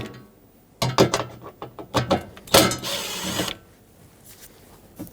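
A socket wrench works 10mm bolts loose on a 2013-2020 Nissan Pathfinder, giving close bursts of quick ratcheting clicks in uneven runs, with a longer grinding stretch before it goes quiet.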